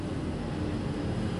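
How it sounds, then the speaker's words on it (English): A plane taking off or landing near an apartment in Chiang Mai, heard as a steady, broad low roar filling the background throughout, with no voices over it. "that's a plane taking off."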